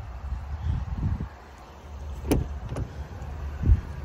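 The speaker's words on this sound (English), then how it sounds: "You can close the lift gate." The power lift gate on a black 2020 Buick Enclave Essence AWD swings closed with a low motor hum, then a couple of sharp latch clunks near the end, close by with no talk.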